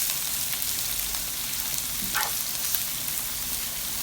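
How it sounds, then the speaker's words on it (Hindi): Mutton pieces and carrots frying in a pan for Kabuli pulao, a dense steady sizzle close by with a brief stirring scrape in the middle and no voices. "मटन को हम अच्छे से फ्राई करेंगे ताकि इसका कलर चेंज हो जाए।"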